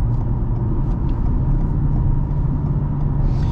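A 2023 Toyota Camry switched into sport mode gives a steady, loud engine and road rumble from inside the cabin, holding an even drone throughout with no voices over it.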